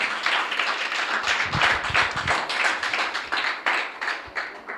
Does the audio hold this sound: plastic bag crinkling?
no